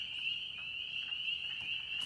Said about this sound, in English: The ones that are going beep, beep, beep are teeny tiny little frogs called spring peepers.